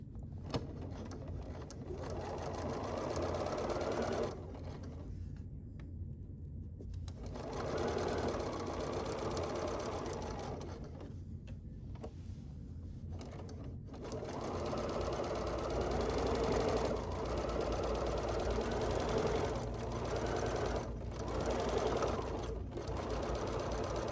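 A sewing machine stitches a quilted mug rug on a 3.5 stitch length, running in long steady bursts of rapid mechanical clatter with short pauses between passes, close and fairly soft.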